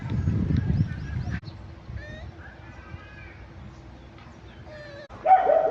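A furry puppy gives several short, high whimpers and yips over a low rumbling background, ending in a louder burst of yelps.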